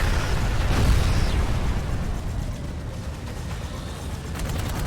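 Heavy cannon fire in the video game Dark Void, a dense, continuous wall of loud booming rumble with a sharper burst near the start, then a steady roar without any voices.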